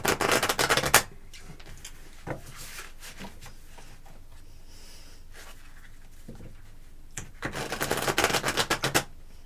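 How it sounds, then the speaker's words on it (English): Tarot cards are shuffled in bursts of rapid riffling, loud at the start and again near the end, with quieter handling and a few soft taps between. "I think I've shuffled them pretty good for you, Country Love"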